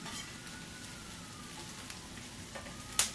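Onions and jalapenos sizzling in a pan, a steady close hiss of frying that runs without break, with a few faint clicks near the end and no talking.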